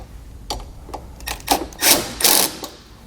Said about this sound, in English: then we'll tighten it down using a 10mm wrench and a Phillips head screwdriver